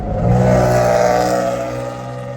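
A loud truck engine revs and holds a steady, rumbling roar close by, with strong low harmonics throughout.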